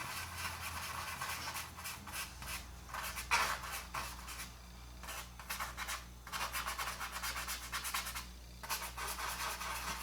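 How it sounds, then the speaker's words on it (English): An old brush working black paint onto the tires of a Radio Flyer wagon, giving a close, dry, steady scrubbing and rubbing in rapid repeated strokes with brief pauses. "beat into the old brush, rub it out mostly"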